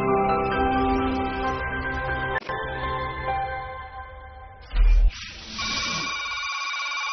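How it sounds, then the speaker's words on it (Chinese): A telephone rings in a Chinese radio drama, a tonal electronic ringing pattern repeating for several seconds before a clunk and handling sounds as it is picked up. "一个自称是邹雨桐表哥的男人给全亚明打来了电话"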